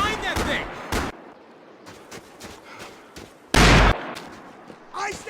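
Gunfire from the video game Max Payne 3 comes as sharp, loud individual shots and a heavy blast between shouted combat voices.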